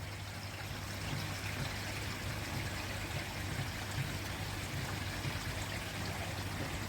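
Water trickles steadily into a koi pond at night, a soft continuous splashing and dribbling that stays fairly quiet and even throughout, with a low steady hum underneath and no voices.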